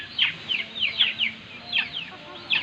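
Several chickens cluck in quick, uneven bursts close by, a busy chattering rhythm with no talking.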